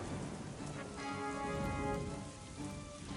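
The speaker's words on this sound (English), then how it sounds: "It's raining on the poor plebs." Steady rain hisses over a city in the city-building game Caesar 3, with soft low rumbles and faint tonal game music running beneath the continuous downpour.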